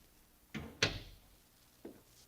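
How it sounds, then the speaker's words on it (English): A door is opened as a sound effect in an old radio drama. Two quick wooden knocks and thuds are followed by a fainter click, all quiet and close, with no speech. "I opened the door for him."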